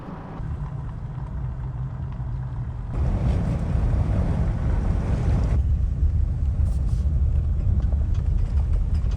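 Wind buffets a beach by the water on a winter outing, a loud continuous roar of gusts and surf wash that swells after a few seconds and stays broad and steady, with no voices.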